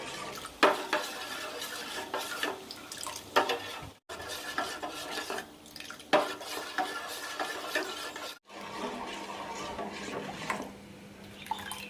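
Thickening tapioca mixture is stirred continuously in a pan, a spoon scraping and knocking against the metal in repeated strokes with a faint simmer underneath, close up, broken by two brief silent cuts.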